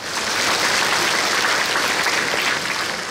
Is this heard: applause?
yes